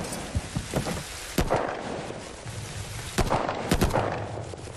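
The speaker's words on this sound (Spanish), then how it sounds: "Solo quiero que pare de llover, hostia." Rain falls in the video game The Division 2, a steady hiss of drops on surfaces with several sharp cracks and thumps of gunfire cutting through.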